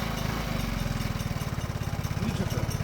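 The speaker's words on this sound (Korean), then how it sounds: "야, 엔진에서 이상한 소리 나네?" Motorcycle engine idling close up with an odd, uneven mechanical noise, a rapid pulsing chug that runs evenly through the short stretch with no voices.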